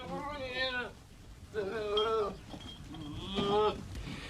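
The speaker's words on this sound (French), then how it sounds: "Ces cris, ce sont des moutons qui les poussent." Abandoned sheep in Cyprus, dying of thirst, bleat in three separate drawn-out, wavering cries, fairly close and plaintive, with quiet background noise between calls.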